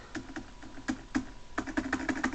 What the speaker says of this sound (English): My only problem with this keyboard is that the spacebar is kind of broken now.